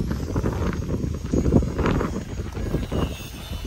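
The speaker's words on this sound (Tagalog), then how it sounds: "malakas din po ang hangin, mga kababayan" Strong wind buffets the microphone beside a road in the Philippines under repair, a steady, loud roaring rumble with gusty swells and no talking.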